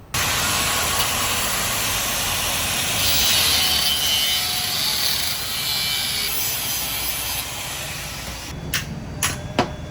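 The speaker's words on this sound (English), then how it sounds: "drilling out my oil drain hole" A continuous high-pitched drill whine grinding into a motorbike's metal oil drain hole for several seconds, then a few sharp clicks and knocks as it stops.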